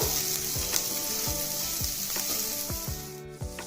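Green chilies and carrot sizzling in oil in a pan, a continuous close crackle broken by repeated scraping stirs roughly every half second, with no talking.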